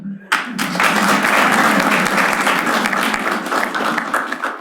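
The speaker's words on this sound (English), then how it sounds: "I would like to begin by soliciting a thunderous round of applause for me." A stand-up comedy audience breaks into loud, sustained applause after a brief moment of quiet and keeps clapping strongly for several seconds.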